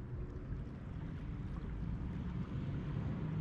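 A desert wash in Tucson, Arizona, still running three days after an August 2022 flash flood, gives a steady, fairly loud broadband rush of moving water, continuous and alone without talk.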